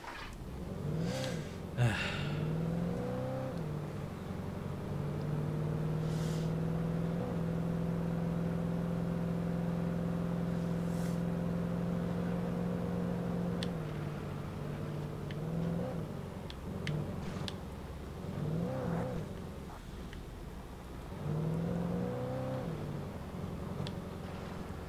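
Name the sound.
car driving and revving in the video game Alan Wake Remastered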